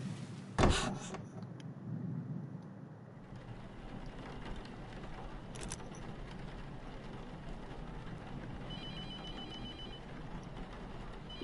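A telephone rings in the horror video game The Mortuary Assistant, a loud bell burst near the start followed by a fainter second ring, set against a steady low ambient hum.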